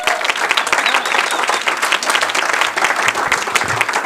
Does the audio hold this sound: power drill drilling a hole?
no